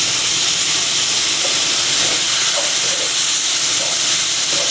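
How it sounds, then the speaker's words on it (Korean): Onion and carrot are stir-fried with mostly cooked chicken in a pan, giving a steady, loud, hissing sizzle throughout. "먼저 양파하고 당근 먼저 넣고 좀 볶아줄게요"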